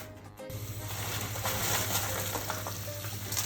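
Ingredients frying in a pan for Mexican salsa macha, giving a close, steady crackling sizzle that continues without a break.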